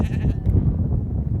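Sheep bleat close by on a mountain trail, several overlapping calls against a low, steady rumble of the flock moving.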